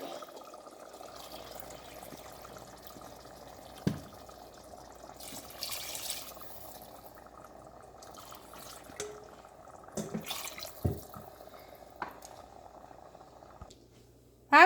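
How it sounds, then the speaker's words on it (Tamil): Water is poured steadily into a pot of crab biryani for several seconds with a low liquid rumble, a few clunks and splashes along the way, fairly quiet and with no voices. "பாருங்க நாங்கள் இதுக்கு தண்ணி விட போகிறோம்"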